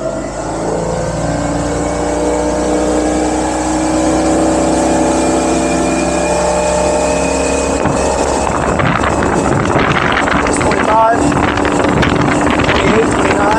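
A boat with a Mercruiser MPI engine, which bucks and stalls at cruise speed, runs under throttle with a steady low engine drone. Wind and water rush over it and grow rougher partway through.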